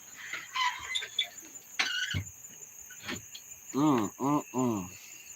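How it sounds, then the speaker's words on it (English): A steady high-pitched cricket trill runs in the background while voices and a few squealing calls sound over it. "You hear all the crickets and boos."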